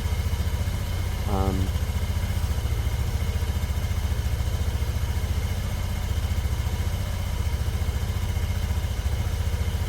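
Steady, close idle of a Lexmoto Diablo 125 motorcycle engine, a restored bike, running smoothly and evenly for the whole stretch with a constant low hum and no revving.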